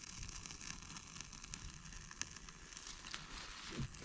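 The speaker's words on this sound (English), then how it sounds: "the wax water mixture is definitely crackling, but I mean, it is going." Wet Bigfoot Bushcraft fire plug, a wax and water mixture burning outdoors, gives a steady hissing roar with scattered faint crackles and one sharper pop, close and quiet, no talk.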